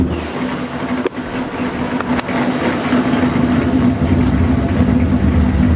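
A garage-built C5 Corvette race car sits idling close by, its engine giving a loud, steady rumble with a low drone that holds for the whole stretch, with no talking over it.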